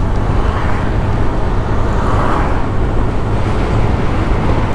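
Heavy rush-hour road traffic around a Honda Click 125i scooter on a busy city street gives a loud, continuous rumble of engines and roadway noise with no clear breaks.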